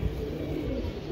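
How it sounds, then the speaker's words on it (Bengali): Racing pigeons on a breeder's farm give a low, continuous cooing murmur, fairly loud and close, with no talk. "এই যে কবুতরগুলো অনেক সুন্দর"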